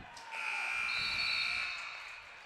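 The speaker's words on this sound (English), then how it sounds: "there is the buzzer to end the third quarter" Buzzer sounding to end the third quarter of a basketball game at a tournament, a steady electronic tone lasting about a second and a half over distant gym noise, moderately faint.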